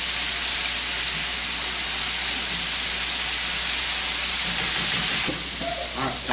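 Crappie fish deep-fry in hot grease with a loud, dense, continuous hissing roar and steady bubbling, close up, with a few faint clinks toward the end.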